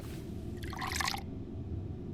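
Water briefly splashes or pours in a domestic scene, a short bright burst of liquid in the middle over a steady low background rumble, moderately faint and without speech.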